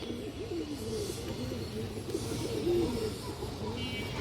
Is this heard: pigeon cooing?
yes